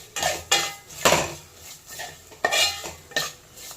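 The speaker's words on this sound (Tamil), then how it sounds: "சின்ன வெங்காயம் நல்லா வதங்கணும்." Shallots and garlic sautéing with masala in a pan for a South Indian fish curry, with a spoon scraping and clattering against the pan in several distinct bursts and soft sizzling underneath.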